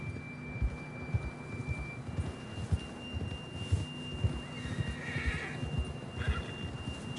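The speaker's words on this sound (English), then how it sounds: "John was riding that horse when we left Blackwater." Horse in Red Dead Redemption 2 whinnies over a steady clip-clop of hooves, the neigh rising loud around the middle while hoofbeats keep an even rhythm throughout.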